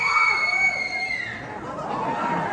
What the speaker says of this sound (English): Do you recognize that scream?